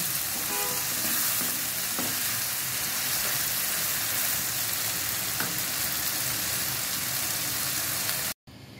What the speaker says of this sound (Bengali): মশলা ভালো করে মিক্স করে সবজিটা আরেকটু ভাজা করে নেব।